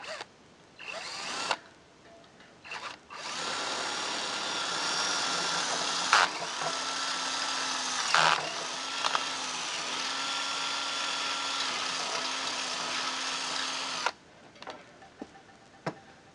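A power drill enlarges a valve hole in a bicycle wheel rim for a Presta to Schrader conversion, a steady close whirring drone with brief starts and pauses, winding down at the end.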